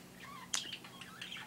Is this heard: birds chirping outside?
yes